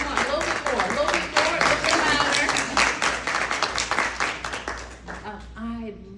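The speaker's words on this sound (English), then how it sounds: "So where's the applause for what she just said?" Applause and clapping from an audience at a live speaking event, sustained and fairly close, with voices talking over it before it thins out near the end.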